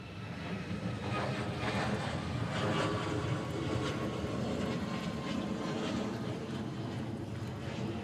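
A jet airliner takes off at Honolulu airport, a steady, moderately distant roar of engines with a broad rushing hiss that holds level throughout, with no speech.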